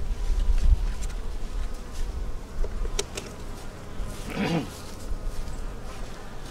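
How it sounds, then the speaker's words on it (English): Honeybees buzzing around a hive, a steady close drone of many wings over outdoor rumble, with a brief louder pass of a single bee near the end. "Let me know what you think the bees are doing."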